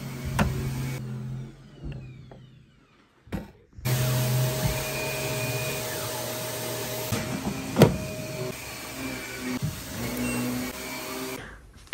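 A vacuum cleaner runs upstairs in a home, its steady whine dropping out briefly before roaring back loud and continuous, with occasional clunks as it is pushed around.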